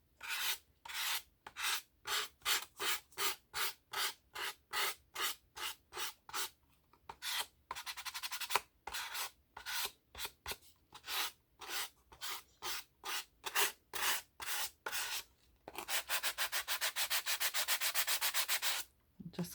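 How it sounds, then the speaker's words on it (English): Close, quiet strokes of a hand sanding block rubbing along the edge of a wooden writing board, in a steady back-and-forth rhythm with brief pauses, ending in a longer continuous rub. "I think I can manage that with my sanding block"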